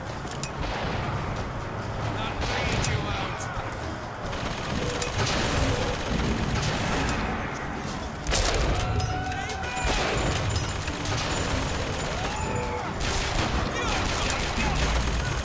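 Rapid gunfire and crackling shots from a sniper fight in Bioshock Infinite, loud and dense throughout with bursts of mechanical clatter layered on top.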